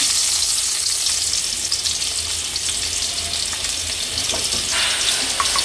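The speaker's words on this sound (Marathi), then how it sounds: "इचे ऑयल घाता आनी जीर घाता आनी लसूण घालून फोंड" Cumin seeds and garlic frying in oil in a Goan home kitchen, a steady close sizzle that runs unbroken throughout, with no talking.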